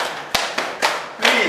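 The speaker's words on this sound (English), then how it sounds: "Let us please clap for her." A class claps for a student with a handful of sharp, separate hand claps, close and fairly loud over a short stretch, with a faint voice in the background.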